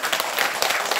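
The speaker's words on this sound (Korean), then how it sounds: "박수 쳐라." Applause from a congregation during a Buddhist temple dharma talk at a memorial service, a brief burst of dense clapping lasting about a second.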